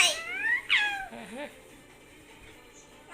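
A cat lets out a few drawn-out, rising and falling meows close by, the first two loud and wavering, then a shorter, softer one, with a faint hum of room noise after.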